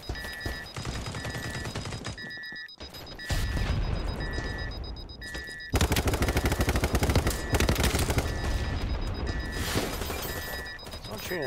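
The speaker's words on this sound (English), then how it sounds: "Someone's shooting an RPG at me." Heavy gunfire and explosive blasts in the shooter game BattleBit as an RPG is fired at the player, loud continuous bursts with a repeating beeping alarm tone throughout and voices talking over the chaos.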